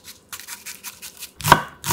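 A knife cuts a quarter onion on a cutting board, with a quick series of soft, even chopping taps followed by two louder, sharper knocks against the board.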